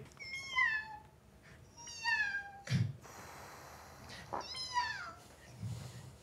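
A person imitates a cat, giving three separate meows, each a drawn-out, falling, nasal cry with pauses between them, over a quiet room with a soft thump in the middle.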